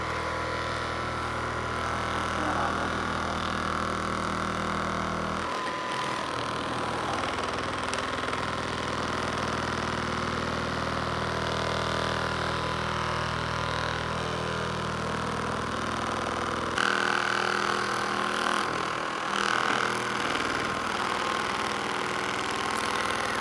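A percussive massage gun runs against a person's foot, giving a steady motorized buzz throughout with a slight shift in pitch and intensity midway and again near the end as the pressure changes.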